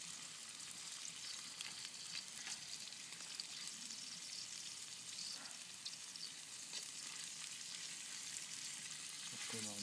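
Squirrel meat frying in a pan on a small camp stove in the woods hisses in a faint, steady sizzle throughout, the sound low and even with no clear speech.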